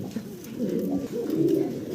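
Several giant homer pigeons for sale coo in low, rolling, repeated calls close by, steady and fairly quiet with no talking over them.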